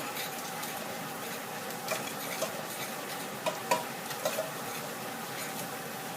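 Paprika paste and shallots stir-fry in oil for Thai coconut noodles, giving a soft, steady sizzle with a few faint clicks and taps from stirring; quiet throughout, with no voices.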